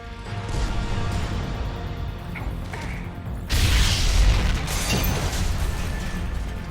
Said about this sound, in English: Don't look at the explosions, Matt.